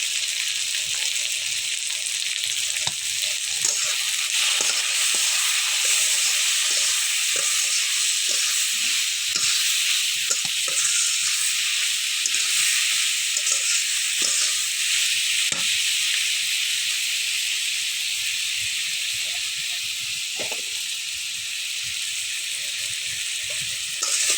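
Spice paste of ground coriander, cumin and garlic frying in a pan before tengra fish is added: an unbroken, even sizzle and hiss with light stirring clicks, close up and with no voices.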